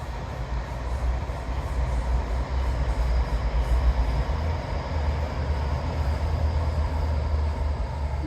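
A steam train passes by a seawall with a continuous low rumble and rattle of wheels and carriages, holding steady at moderate distance without voices.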